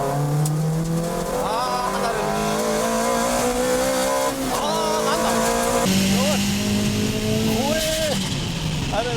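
A Nissan Silvia racing car drifts on a track, its engine droning steadily with rising and falling pitch through gear changes, tires squealing at times, with excited voices commentating over the continuous loud engine.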